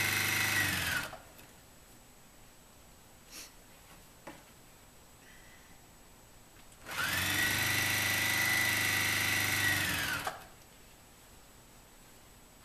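A sewing machine runs fabric strips through with a quarter-inch seam in two loud, steady bursts of whirring stitching, the first brief and the second lasting a few seconds, separated by a quiet pause with soft handling clicks.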